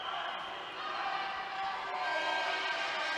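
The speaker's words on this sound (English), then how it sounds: "Just waiting for the crowd to come to order." Crowd murmur and scattered cheering from spectators in an indoor pool arena at a world junior swimming championship semifinal, a steady distant wash of voices with occasional calls.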